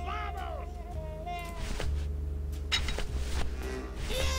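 Cat meows from the video game Grim Fandango Remastered, sounding over a steady background score of music and game ambience, with a few brief vocal-like cries rising above the mix.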